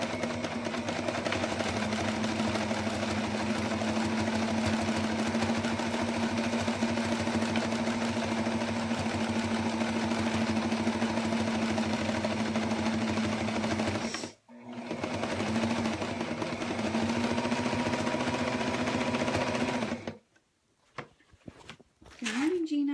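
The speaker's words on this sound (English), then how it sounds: "So I'm just going to top stitch around this whole thing." A sewing machine runs steadily while top stitching around a crossbody messenger bag, a continuous mid-pitched hum with two short pauses near the end as the seam is turned.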